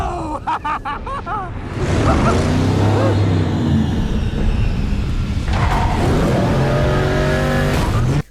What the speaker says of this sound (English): Just watch the car chase scene with the Batman and the Penguin.